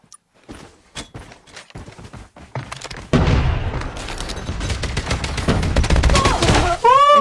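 Rapid gunfire from a Call of Duty Mobile match, a dense loud burst of shots and booms that runs continuously for several seconds after a few sparse footsteps and impacts, with faint voices early on.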